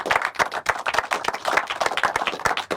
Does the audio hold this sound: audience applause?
yes